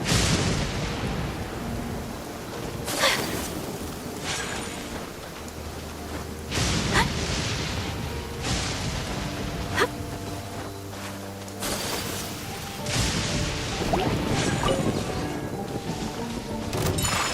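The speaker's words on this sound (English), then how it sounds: "Let us find shelter from the rain." Steady rain hisses through a Genshin Impact storm while deep thunder rumbles and cracks several times, each roll swelling and fading at irregular intervals over the constant downpour.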